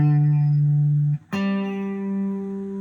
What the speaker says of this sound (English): like chorus with, chorus with a little bit of tremolo or something.